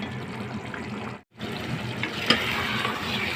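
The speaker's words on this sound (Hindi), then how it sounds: "इसको अच्छी तरीके से मैं भून लूँगी" Aloo matar keema with green chillies fries in a pan, a close, dense sizzle broken by a brief gap and a sharp clack of a utensil, then the hiss continues.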